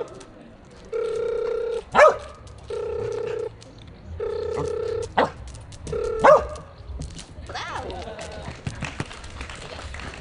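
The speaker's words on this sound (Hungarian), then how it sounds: "amire szintén ugatni fog" A police border collie barks on command during a dog demonstration at a county civil guard day event, giving two sharp, loud barks spaced apart amid repeating electronic beeping tones and background crowd noise.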